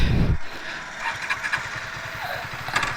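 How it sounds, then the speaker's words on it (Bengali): A Karizma XMR motorcycle engine runs smoothly close by, giving a steady low, pulsing throb that holds for a few seconds after a brief louder burst at the start. "এখন বলতে গেলে বাইকটা খুব স্মুথ রান করছে"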